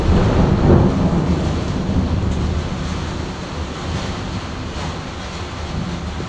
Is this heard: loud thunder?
yes